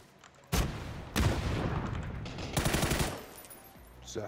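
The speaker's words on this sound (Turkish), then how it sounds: "Peki roket patlatsak?" A rocket launcher blast and gunfire in the PUBG battle royale game ring out loud and close: a sharp boom followed by sustained rattling bursts of shots and a second rapid volley, with no talking.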